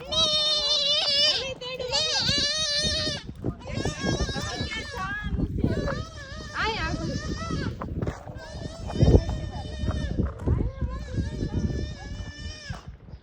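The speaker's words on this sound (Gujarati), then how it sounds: "દેખ રહ્યો આપ સબ બકરે કો" Goats bleat repeatedly in loud, wavering cries, one after another with short gaps, close by over a busy background.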